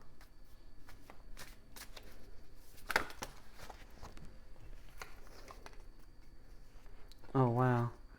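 Soft riffling and tapping of a deck being shuffled, in intermittent bursts, with a brief voice near the end.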